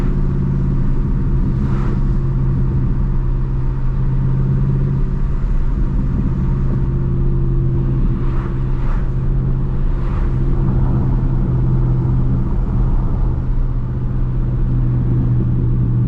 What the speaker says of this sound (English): Get a little V8 American Muscle ASMR going on.